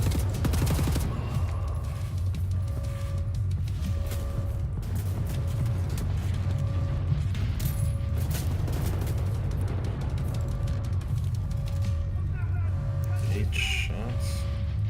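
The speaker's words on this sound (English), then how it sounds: "Shots." Gunfire in the shooter game Wolfenstein: The New Order, dense continuous bursts over a heavy low rumble of battle and machinery, loud and sustained throughout.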